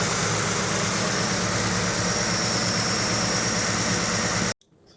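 A Cobra restomod's car engine idles after repair with a steady, close, loud running note and vibration, then cuts off abruptly near the end.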